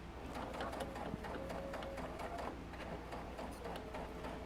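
Sewing machine stitching a quarter-inch seam on a puff quilt, a steady close mechanical whir running through the whole stretch at even loudness.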